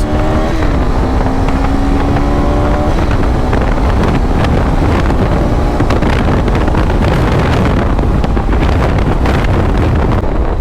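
A 2026 KTM 390 R Adventure, a light 45-horsepower motorcycle, rides past at speed, its engine note rising then fading under heavy wind buffeting on the microphone, loud and continuous throughout.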